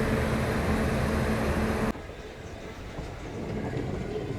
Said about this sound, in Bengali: ট্রেন ছেড়ে দিল হাওড়া জংশন রেলওয়ে স্টেশন থেকে